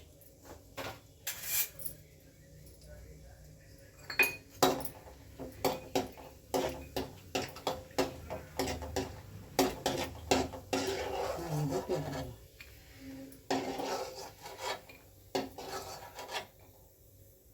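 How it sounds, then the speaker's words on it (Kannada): Cashews frying in a pan for hotel-style jeera rice, stirred with a utensil that scrapes and rasps against the metal in uneven strokes, close and fairly quiet, with no talking. "ನಾವು ಫಸ್ಟು ಗೋಡಂಬಿನ ಹುರ್ಕೊಬಿಡೋಣ"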